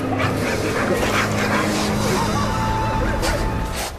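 Sled dogs bark, yip and whimper together in a loud, dense chorus outdoors, a continuous overlapping din with rising and falling whines running throughout.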